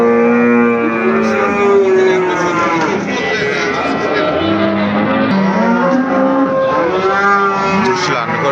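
Cows at a busy cattle market, mooing loudly and repeatedly from several animals close by, the long calls overlapping one another without pause across the whole stretch.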